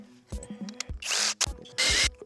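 Close power drill with a step bit whirring in two short bursts while installing parts on a 2019 BMW X3 M40, separated by clicks, knocks and handling noises.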